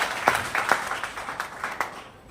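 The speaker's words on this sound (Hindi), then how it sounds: "साहसी लोग अपने लिए ताली बजाएं।" An audience claps for itself at a leadership training session, with a few scattered, uneven hand claps that trail off within a couple of seconds.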